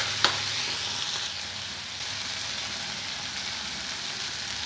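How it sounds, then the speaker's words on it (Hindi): Tomatoes fry and get stirred in a pan for semolina upma, making an even, moderate sizzle that runs throughout after a single sharp utensil click at the start. "अब डालेंगे हम टमाटर, तीन चार मिनट तक हम इसे अच्छी तरह से चलाएंगे।"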